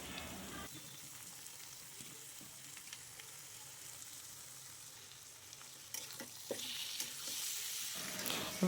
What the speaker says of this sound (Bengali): এবার মাংসটাকে ভালো করে নেড়ে ছেড়ে কষিয়ে নিব।